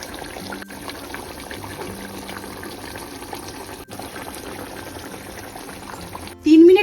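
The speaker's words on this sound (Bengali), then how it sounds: "ঝোল দেখো টকবক করে ফুটে উঠেছে" A broth of large koi fish curry boils over a medium flame, giving a steady, close bubbling and burbling that runs throughout and ends in a brief louder burst.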